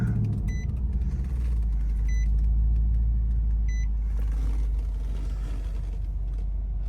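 A 2017 Nissan Titan Pro4x pickup engine runs with a steady, loud low rumble and idle, a few short electronic beeps chiming early on, and no talking.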